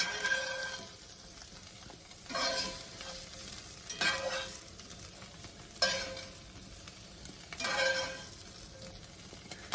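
Crispy browned potatoes scraped out of a skillet into a bowl for a smoked sausage potato dish, with repeated scraping and clattering strokes about every two seconds over a faint steady sizzle, close by and with no talking.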